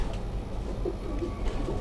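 Domestic pigeons coo softly at a Karachi pigeon-keeping home, a low steady murmur of overlapping coos heard at close to moderate distance over a continuous background hum.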